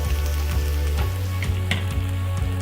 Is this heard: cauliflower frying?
yes